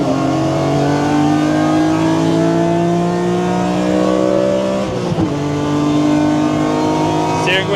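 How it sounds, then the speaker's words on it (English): A BMW driven hard on a tourist-day lap of the Nürburgring Nordschleife, its engine a loud, steady in-cabin drone holding high revs with rising pitch, a brief dip and shift midway, then pulling on again. "Rusky, Danny, Rusky, taking me for a lap around Nordschleife, tourist day."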